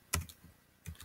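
A few quick clicks of typing on a computer keyboard, capital letters being entered for a caption: two short bursts of keystrokes about a second apart, close and fairly quiet, with no voices.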